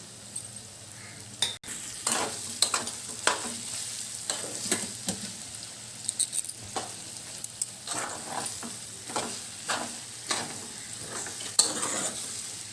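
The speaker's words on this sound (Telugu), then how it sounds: "ఈ శనగల పేస్ట్ మొత్తం వేగేంత వరకు కూడా ఇలా కలుపుకుంటూ మనం ఫ్రై చేసుకోవాలి." Ground chana dal paste fries in a pan with a low sizzle as a spoon stirs it in repeated scraping strokes, each a short burst, with a couple of sharper metallic knocks near the start.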